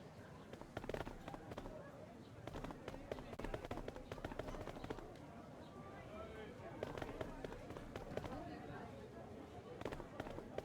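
Rapid popping shots from a shooting gallery in the adventure game Trüberbrook, a steady stream of sharp cracks at moderate level with someone talking over them.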